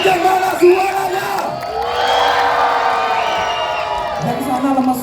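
Crowd at a live stage show yelling and cheering loudly in a sustained roar, children's voices among the shouts, swelling and dipping with a fresh burst toward the end.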